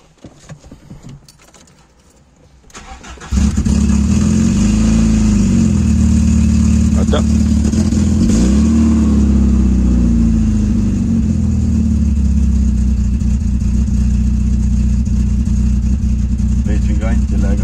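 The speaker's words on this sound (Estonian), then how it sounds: "Mootor külm ka." A cold car engine cranks and catches, then settles into a loud, steady run with slight revving swells; a few quiet handling noises come before the start, and faint voices sit beneath the engine.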